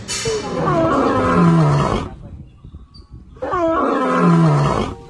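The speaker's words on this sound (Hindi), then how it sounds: "देखिए शेर का आवाज़ सुनाई दे रहा है" Two long, loud lion roars, each lasting a couple of seconds and separated by a short pause, with faint background rumble between them.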